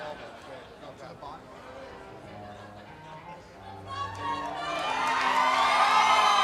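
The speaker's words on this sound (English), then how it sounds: "He's got a vocal cheering section" A crowd cheers for MMA fighter Chase Mann at a CFFC event at the Tunica Hotel and Casino, with scattered shouts and chatter that swell into loud, sustained whoops and cheering toward the end.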